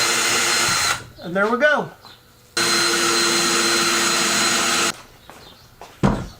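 A power drill bores two holes through a 2x4 for a DIY kayak trolling motor mount, running in two long loud stretches with a speed-changing whine between them, and someone speaks briefly near the end.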